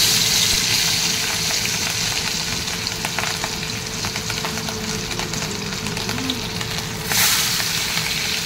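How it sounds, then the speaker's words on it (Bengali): Pieces of hilsa fish fry in hot oil with a loud, steady sizzle that hisses on without a break from start to finish. There are no voices. "মাছ ভেজে নেব।"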